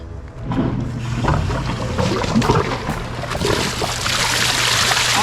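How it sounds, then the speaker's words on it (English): A backyard water feature pump switches on at a dog-friendly landscaped rock fountain. Rushing, splashing water builds up and then settles into a loud, continuous broadband flow. "And let's plug in our pump."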